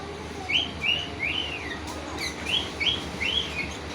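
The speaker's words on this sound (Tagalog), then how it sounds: "May mga alaga pa po silang ibon dito." Pet birds kept at a private resort in Cavite give a run of quick, bright chirps over a steady outdoor background hum, clear and moderately close.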